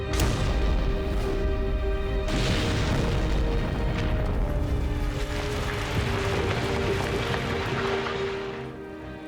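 A bomb detonates on a test street in a Blitz-era setting: a loud, sustained broadband roar and rumble lasts for the full length before easing slightly at the end.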